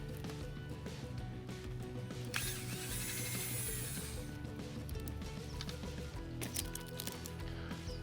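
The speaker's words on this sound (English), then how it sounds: "Grab a drill and then unscrew every single screw in the valve body cover" A power drill whirs and ratchets continuously up close, unscrewing the valve body cover screws of an irrigation zone control valve, with a brief higher-pitched whine in the middle and clicking mechanical chatter.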